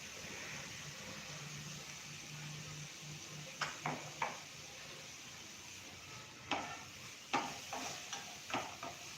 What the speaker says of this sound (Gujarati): લસણ, ડુંગળી એ બધું સરસ રીતે સોતળાઈ જાય